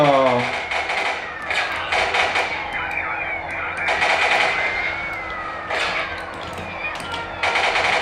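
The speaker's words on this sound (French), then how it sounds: "c'est lui qui me tire dessus" Gunfire from an enemy shooting at the player in the video game Driver, sharp bursts of shots repeating at intervals over game music and engine tones.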